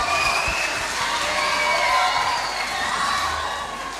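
Children at a church Sunday school celebration clap and cheer together, a bright sustained crowd roar with shouts and whoops. It is loud and steady, then eases slightly at the end.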